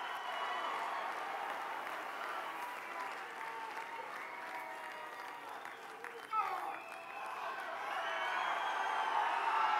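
A large arena crowd at a strongman final applauds and cheers a competitor in a steady roar of clapping. It swells louder toward the end, with a brief burst in the middle.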